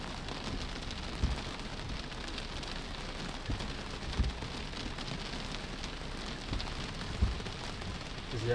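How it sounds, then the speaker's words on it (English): Heavy rain drums on a Tesla during a flash flood, a soft continuous patter heard from inside the car with a few faint thumps spaced several seconds apart. "There's just a lot of rain right now."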